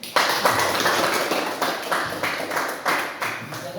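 A classroom of students claps together in short bursts, several rhythmic rounds of hands at close range, fairly loud, with some voices in the background.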